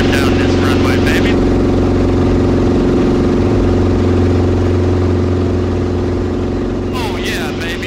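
A light aircraft engine roars at high power during the takeoff roll down a runway, loud, close and continuous, its drone shifting slightly in pitch partway through.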